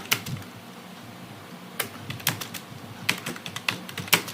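Python code is typed on a computer keyboard in scattered, irregular keystrokes. The sharp clicks come in short bursts, close and fairly clear, with no talking.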